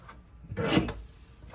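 A paper trimmer slices through cardstock in one short, quiet rasping stroke, a brief scrape that swells and fades in under a second against a quiet room.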